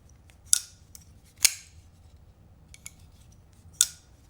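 A Kansept Tarkin folding knife with a front flipper snaps open and shut, giving about four sharp, close metallic clicks at uneven intervals over a quiet background, with no talking.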